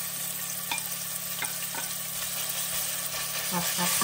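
Mixed ground pork and beef sizzling in a hot pan for Bolognese sauce, a steady frying hiss with occasional scraping stirs and light clinks of the utensil.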